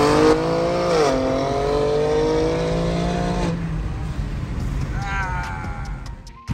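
A Kia Stinger and a BMW M3 G80 launch from a dig in a drag race, loud engines revving hard through rising gear pulls with a shift, then the sound fades as the cars pull away into the distance.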